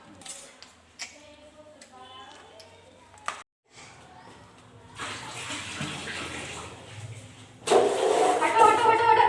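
Water runs loudly for a bath, a steady broadband gush that starts partway through and swells near the end, with people talking before it and over the running water.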